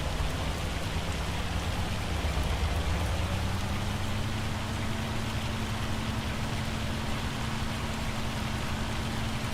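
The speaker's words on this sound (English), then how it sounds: "Yeah, that's definitely hailstones. You can see them bouncing." A steady, dense patter of hailstones striking and bouncing on surfaces in a Farming Simulator 25 storm, heard from inside a vehicle cab, with a low engine hum underneath and no talking.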